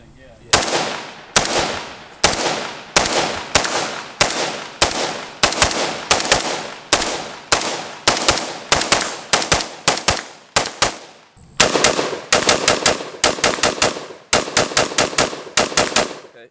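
A PSA AR-K rifle fires 5.56 rounds from standard magazines in rapid strings of loud, sharp shots. The strings are separated by brief pauses, and the gunfire is close and dominant throughout.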